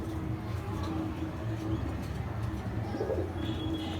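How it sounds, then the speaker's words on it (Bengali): A restless pigeon coos in low, repeated throaty calls, close and clear over a steady background hum. "অনেক ছটফট একটা কবুতর।"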